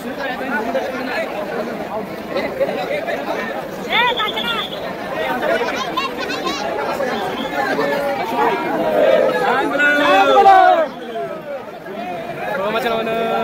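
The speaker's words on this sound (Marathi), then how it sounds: "एवढी गर्दी आहे" Dense crowd of pilgrims chattering at a crowded Balumama temple in hot weather, a continuous close babble of many overlapping voices with occasional louder calls throughout.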